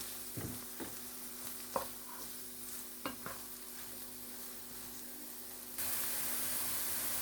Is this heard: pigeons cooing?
no